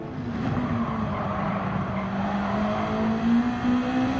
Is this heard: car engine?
yes